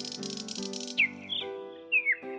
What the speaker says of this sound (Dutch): Hij zingt zo mooi.